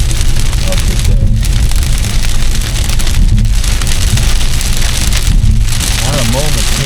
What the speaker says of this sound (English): The storms are really kicking up.